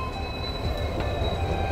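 An Indian Railways train rumbles steadily close by on the line from Rangapara North toward Biswanath Chariali, with a continuous low roar, metallic ringing tones and faint squeals from the wheels on the rails.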